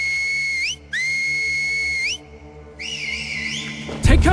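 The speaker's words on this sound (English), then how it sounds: "I need to study what each whistle means" Sharp signal whistles from survivors in The Last of Us TV series, loud rising and sustained tones repeated in three bursts with brief gaps, ending in a sudden louder commotion.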